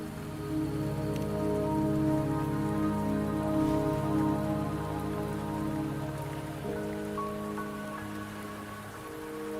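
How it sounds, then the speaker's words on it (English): Rain falls steadily in the video game Wuthering Waves, a continuous hiss of drops on surfaces layered under sustained tonal music, even and moderately loud, with no voices. "Don't worry, the rain won't last much longer."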